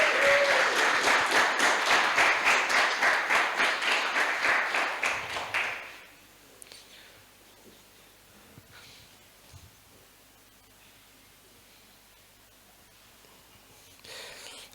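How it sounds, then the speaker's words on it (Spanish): A church youth camp congregation claps in a loud rhythmic burst for about six seconds, then the applause stops abruptly, leaving a quiet room with faint rustles and a brief noise at the end. "den un aplauso a estos chicos que se..."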